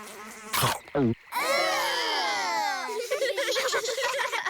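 High, wavering buzzing of flies swirling close by for a few seconds, preceded by brief voices and a short giggle.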